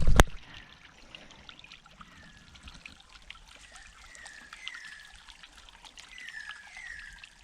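Water bubbles out of a garden ball fountain in a soft, continuous trickle, quiet and close, after a brief sharp click at the very start.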